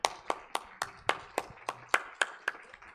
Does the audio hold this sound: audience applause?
yes